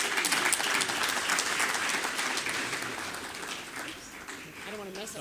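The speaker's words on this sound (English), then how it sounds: "How about a round of applause?" An audience applauds at the McDermond Medal for Excellence in Entrepreneurship ceremony, a full, steady round of clapping that gradually softens as a voice begins speaking near the end.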